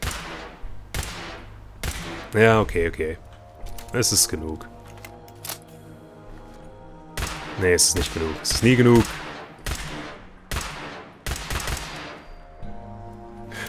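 Gunfire in the Fallout 4 video game: a run of sharp, loud shots, some single and some in quick bursts, spaced irregularly across the stretch, with someone talking between and over them.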